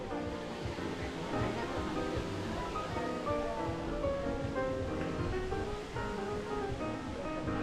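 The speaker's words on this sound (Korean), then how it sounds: "여기서 폭포수가 떨어집니다." Waterfall pouring from a spring source pool at a yellowish-water bathing spot in Ecuador, a steady broad rushing roar that fills the whole clip at constant level, with faint voices mixed underneath.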